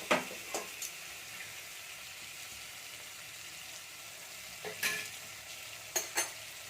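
Boiled peanuts in a Kathiyawadi drumstick curry are tossed and turned over in a pan. A low, soft sizzle continues throughout, broken by a few short scraping bursts near the start and again toward the end.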